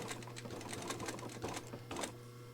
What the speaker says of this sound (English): And this is what I love about industrial sewing machines. You can sew some really thick stuff.